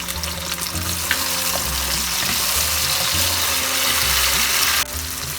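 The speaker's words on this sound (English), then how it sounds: "Fry the onion until it turns light golden. Now we'll add 1 small size tomato." Thinly sliced red onion and a small tomato fry in a pan for a Bengali katla fish curry, a steady broadband sizzle with intermittent low scraping stirs, loud and close, no voices.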